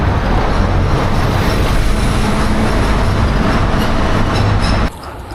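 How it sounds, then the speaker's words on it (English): Steady loud road roar inside a vehicle driving through a road tunnel in China with traffic, constant rumble that drops off sharply near the end as the car exits. "Looks like we have a tunnel ahead."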